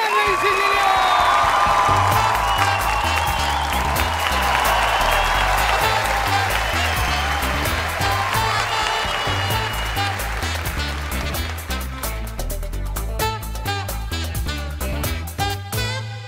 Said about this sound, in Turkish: Alkışlar Daniel Özer'le için